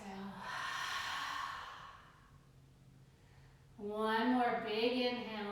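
A long, loud exhale during a yoga breathing practice, a soft breathy rush that fades into quiet, followed by a voice speaking.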